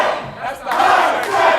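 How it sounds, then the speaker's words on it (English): A wrestling event crowd chants "hype section" in unison, a loud, close roar of massed voices rising and swelling over under two seconds. "The crowd is chanting hype section right now."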